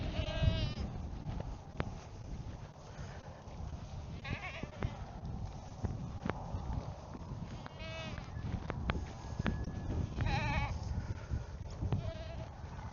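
Several goats bleat repeatedly at varying distances over a quiet outdoor background, with calls overlapping now and then.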